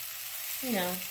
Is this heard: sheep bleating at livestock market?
no